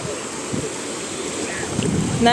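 Sea at the beach in Shëngjin, Albania: a soft, steady wash of waves mixed with wind buffeting the microphone, fairly close and continuous.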